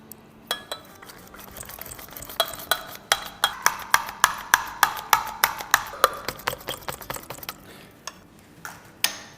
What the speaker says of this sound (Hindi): इसको अच्छे से फेंट लेंगे